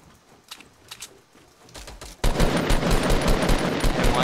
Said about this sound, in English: I'm getting shot at from behind, too